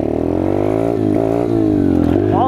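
Chinese Peace Moto dirt bike engine revving close up, a steady harmonic drone that climbs and dips in pitch with throttle blips, loud and continuous with no talking.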